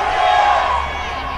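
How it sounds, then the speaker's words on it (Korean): Parents in the stands at a youth soccer match at Seosan stadium let out a loud, brief burst of cheering and shouting, swelling then easing slightly over a second or so. "서산 종합운동장이 뭐 떠나갈 듯한 함성을 보여주고 계신 학부형들이었고"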